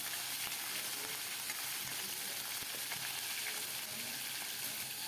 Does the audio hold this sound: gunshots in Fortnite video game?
no